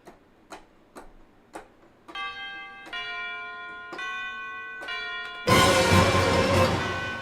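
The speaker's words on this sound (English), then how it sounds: "I need tubular bells, wherever they went off to." Tubular bells ring out in orchestrated Star Fox 64 final-battle music against Andross, a few sparse ticking strikes giving way to sustained resonant bell tones, then a loud full orchestral swell bursts in near the end.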